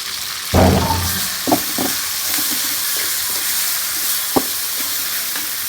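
Spices with green chili and garlic paste hitting hot oil in a pan for a village-style prawn and lotir curry, a low steady sizzle with a few sharp crackles and stirring scrapes.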